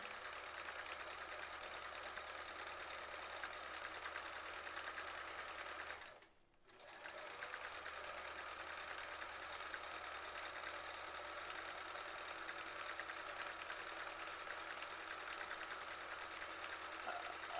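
A sewing machine stitches through a quilt with a fast, steady mechanical whir close by, stopping briefly about a third of the way through before running on at the same pace.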